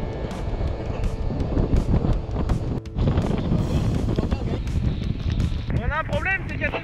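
Strong gusting wind buffets the microphone in a loud, continuous roar while a person talks underneath.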